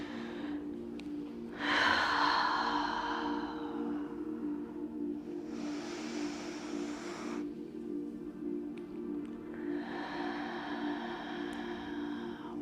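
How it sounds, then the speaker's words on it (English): Slow deep breaths in a Pilates class, three long airy inhale-exhale bursts several seconds apart, close and clear over a steady low hum, with no talking. "One more deep breath."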